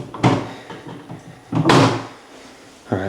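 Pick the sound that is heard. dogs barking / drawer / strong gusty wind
drawer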